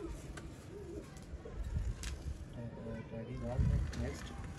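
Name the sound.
pigeons cooing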